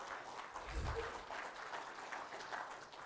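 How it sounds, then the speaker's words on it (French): An audience at an SQL Server conference keynote applauds contest winners, a faint, fairly distant wash of steady clapping lasting a few seconds in a large room, with some low voices mixed in. "Vous pouvez applaudir tous les gagnants du concours Twitter."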